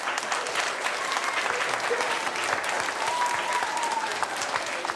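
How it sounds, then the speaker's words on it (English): Children at a school superheroes assembly applaud together, a dense, loud burst of clapping that holds steady for several seconds, with a few young voices calling out over it. "Give yourselves a big clap."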